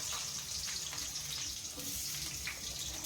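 Cut potatoes fry in hot mustard oil, giving a dense, even sizzle that stays loud and close for the whole moment, with no talking.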